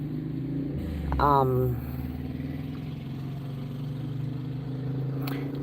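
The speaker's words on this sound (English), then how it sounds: "motorcycle passed by" A motorcycle passes close by, its engine note swelling and rising for about a second before fading into steady low background rumble, heard after a brief spoken hesitation.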